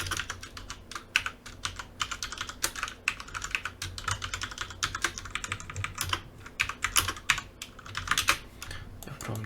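Fast, steady typing on a computer keyboard, close and clear, with dense rapid key clicks and a few louder strokes, with no talk over it.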